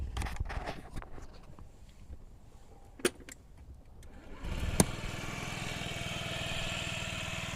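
A Honda Ruckus scooter with its stock exhaust pipe cranks over and catches, then settles into a steady, quiet putter at idle, faint and close with a couple of sharp clicks beforehand.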